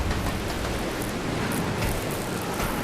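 Steady broadband hiss of heavy rain pattering on the roof of a train at night in Resident Evil 0, continuous and fairly loud with no voices.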